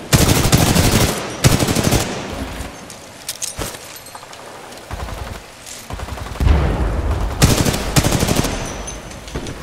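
Semi-auto sniper rifle fire in the video game Titanfall 2: loud, sharp shots come singly and in quick clusters, separated by brief gaps and mechanical reload clatter.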